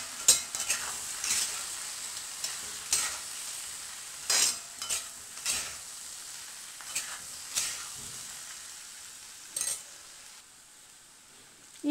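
Biryani masala and chili powder fry in oil for hotel-style veg biryani, a soft hiss punctuated by irregular scraping strokes of a stirring spoon against the pan.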